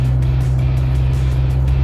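An Isuzu D-Max V-Cross 4x4 turbo pickup truck drives along an empty road, its engine and road noise a loud, steady low drone heard from inside the cab.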